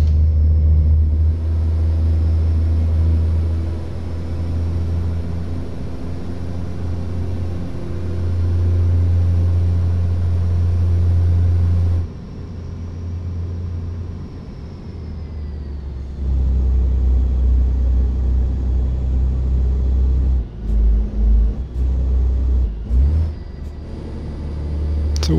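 A Kenworth W900L truck's Jake brake produces a loud, sustained, deep engine rumble close by. It eases off midway, then comes back strong with a few choppy breaks near the end.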